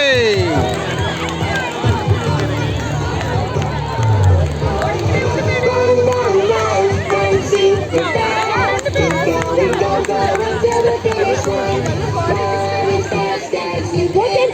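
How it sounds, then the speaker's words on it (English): Crowd at a school sports day cheering and shouting, with children's voices in a dense, continuous babble and a loudspeaker voice over it. "Audience is requested to cheer for the participants with a huge round of applause."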